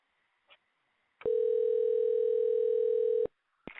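One loud, sustained telephone ring tone lasts about two seconds on an outgoing call to a radio show guest. Short vocal sounds come just before and after it.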